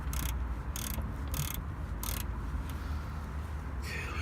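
Ratchet wrench clicking in short bursts while tightening the hub bolt on a front wheel bearing of a 2009-2012 Ford Escape 2.5, close by, with several spaced clicking runs over a steady low background hum.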